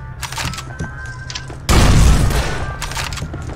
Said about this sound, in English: You're supposed to throw the grenade, not the pin.